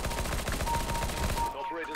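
Rapid automatic P90 fire in the video game CS:GO, a dense burst of shots lasting about a second and a half before cutting off, loud and close.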